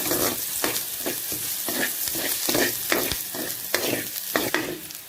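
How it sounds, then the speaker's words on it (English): Chicken and fresh curry leaves fry in a pan, with a steady sizzle broken by repeated scraping knocks of a spoon stirring at a loose, regular rhythm, close up. "Now just add in a bit more curry leaf."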